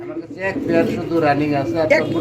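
Fancy pigeons at a pigeon sale coo softly in the background while people talk over them close by.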